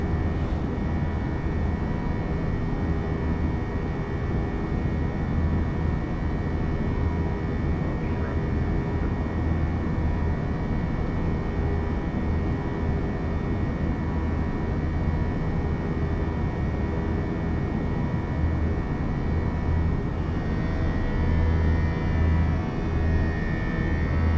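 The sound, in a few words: airplane cabin hum in Fenix A320 flight simulator video game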